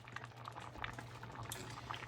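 Moong and masoor dal simmers in a pot on the stove, giving a soft continuous bubbling with small pops over a low steady hum, quiet and close.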